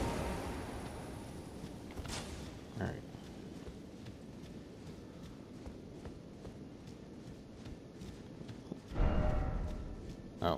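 Horse hooves in the Elden Ring: Shadow of the Erdtree video game, a quick repeated clip-clop of galloping steps mixed with game sound effects and a few sharper thuds, moderately loud throughout.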